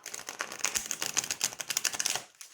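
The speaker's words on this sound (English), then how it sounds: "let me show you how it shuffles" A new Tarot de Marseille deck with gilded edges, slightly stiff, is riffled and shuffled close up, making a rapid run of crisp papery card clicks that stops abruptly near the end.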